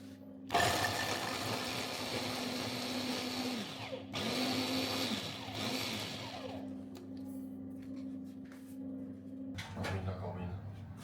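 A motorized kitchen chopper whirs through green onions in a home kitchen, a steady close mechanical drone in several bursts that stops briefly and restarts.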